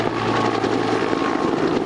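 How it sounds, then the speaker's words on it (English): Helicopters flying over a wildfire while dropping water, with a loud, continuous rotor thrum and engine roar that fills the whole short stretch without any talk. "in the air, helicopters dropped 300 gallons of water to prevent the fire from spreading"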